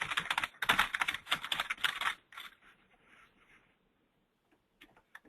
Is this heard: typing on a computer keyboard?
yes